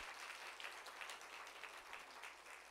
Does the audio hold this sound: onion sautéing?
no